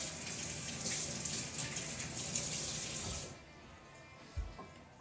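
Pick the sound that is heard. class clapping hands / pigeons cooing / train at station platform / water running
water running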